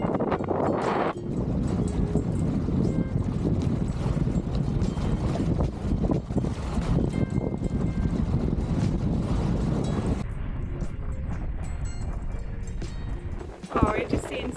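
Strong wind roars steadily across the microphone aboard a sailboat under a trimmed mainsail at sea off New Zealand. The loud, continuous buffeting fills the clip, with voices faintly mixed in.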